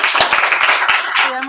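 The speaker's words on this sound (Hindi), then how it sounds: "चलिए एक बार ताली बजाइए आप लोग।" Students in a chemistry classroom clapping together, a burst of sharp, uneven hand claps close by, with talk mixed under the applause.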